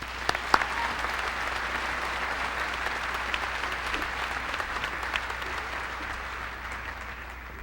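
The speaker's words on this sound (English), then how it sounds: "And if you could join me in giving Christopher a round of applause, please." Audience applause for a scholarship recipient at a senior academic recognition ceremony, a steady wash of many hands clapping at some distance, even and sustained throughout.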